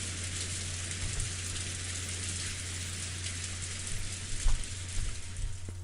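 Steady rain falls in the Umineko visual novel, a close, even hiss of drops on surfaces with faint low hum beneath and a few slightly louder patters near the end.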